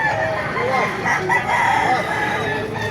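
Golden boy sweater gamefowl roosters crowing at a busy chicken market in Baliuag, Bulacan, several overlapping loud crows close by with clucking over a noisy crowd.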